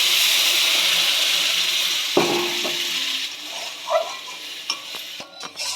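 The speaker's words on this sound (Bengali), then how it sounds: "এবার হচ্ছে 1 কাপ মতন জল দিয়ে দেবো" Water poured onto fried semolina in a hot pan, a loud sizzling hiss that gradually dies down, followed by wooden stirring knocks and scrapes.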